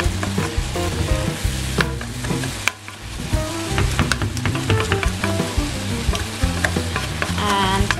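Vegetables frying in a pan for a lasagne, with a steady loud sizzle and frequent spatula scrapes and knocks as they are stirred and turned, and no talking.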